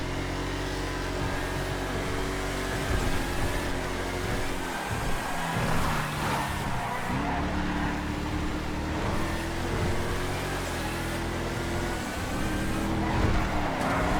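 Race cars driving in GTA FiveM, a continuous loud engine roar with rising and falling gear shifts, occasional tire squeals and skids, and cars passing close by, with no voices.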